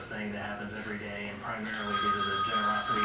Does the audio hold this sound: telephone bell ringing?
yes